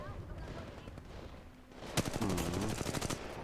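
Gunfire in Apex Legends Mobile, a rapid burst of automatic shots that breaks in after a quieter stretch of faint background game noise, fairly loud and sustained for over a second.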